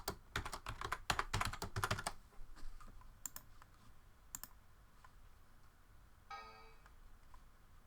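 Computer keyboard being typed on as a password is entered: a rapid burst of close, crisp key clicks at first, then a few isolated taps, followed by a brief rattling click near the end.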